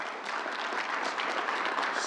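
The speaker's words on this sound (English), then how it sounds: "Charlie King, let's give him a big round of applause." Audience applause at a New York event announcing a statewide vaccination campaign, a dense steady wash of clapping that keeps an even level for about two seconds with no voices over it.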